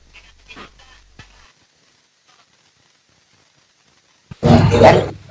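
A person imitates a dog, giving a short loud burst of barking noises near the end after faint sounds and near silence.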